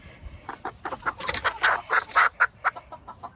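A Polish hen, a crested top-hat breed, clucks in a run of short rhythmic calls that build toward louder, clearer notes midway, close by with no talking.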